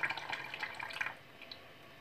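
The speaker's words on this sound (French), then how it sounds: "Je rajoute mon eau chaude" Hot water is poured into a blender for a homemade sea-salt scrub, making a faint, close trickling splash. It lasts about a second, then fades to quiet.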